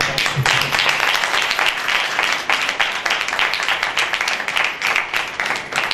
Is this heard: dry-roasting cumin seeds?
no